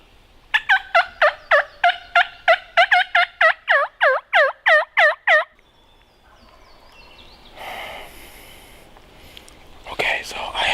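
A rapid series of about fifteen sharp, rhythmic wild turkey gobbles or yelps, loud and close, in northern Iowa, followed by quiet rustling and a brief whispered voice.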